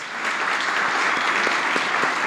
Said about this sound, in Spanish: Por favor, que sea más fuerte ese aplauso para Fernando Morales.